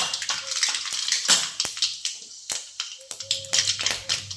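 Spices spluttering and popping in hot oil as a vegetable dish gets its tempering: loud, close crackles and sharp snaps in a rapid irregular burst, with brief clinks of metal utensils.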